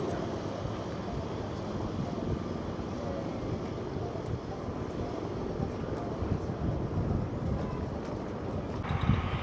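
Seaplane on the water preparing for takeoff near Victoria, a steady broad engine and wind roar holding throughout with slight swells, voices faint underneath.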